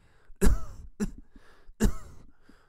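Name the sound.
coughing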